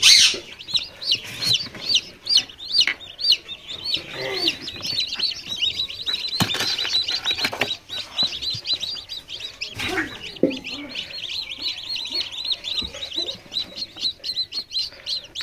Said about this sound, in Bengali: লেয়ার মুরগির ব্রিডিং করা বাচ্চা এবং দেশি মুরগির ব্রিডিং করা বাচ্চা।